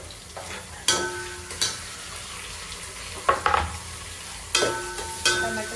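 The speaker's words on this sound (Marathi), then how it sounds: "टोमॅटो छान भाजून घ्यायचा." Tomato being sautéed with browned onion in a pan, a steady sizzle broken by several scraping stirs of the spoon against the pan at irregular intervals.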